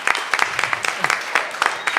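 An audience applauding the presenters at a startup pitch event, a steady patter of many hands clapping together for a couple of seconds.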